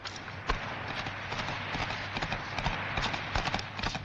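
Hooves clip-clop in a quick, uneven rhythm as horses move over hard ground in a fantasy horror film, mid-distance, with a steady noisy background.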